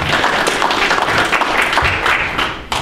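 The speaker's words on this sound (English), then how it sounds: "Let's give everybody a round of applause." An audience at a candidates forum gives a round of applause, dense close clapping that holds steady for nearly three seconds before tapering off.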